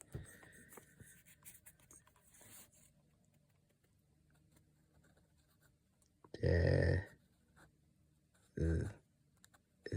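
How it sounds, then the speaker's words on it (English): Pen scratching across paper as someone writes by hand with the left hand, soft close scribbling strokes followed by quiet gaps, with two louder bursts of handling noise near the end. "I'm just gonna write that down real quick"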